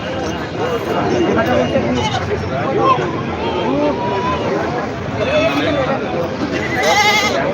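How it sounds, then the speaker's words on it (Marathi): Goats bleating repeatedly amid a crowd's chatter and people talking nearby at the Khandoba goat market in Parbhani, a busy, noisy livestock market scene. "मोठ्या साईजमध्ये बकरी आलेल्या आहेत"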